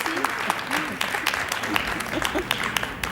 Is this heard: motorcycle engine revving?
no